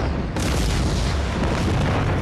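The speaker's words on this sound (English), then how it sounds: "And an explosion rips through its core." A building explosion in San Juan, a loud, sustained roaring boom that bursts in suddenly and keeps rumbling at full volume until the end.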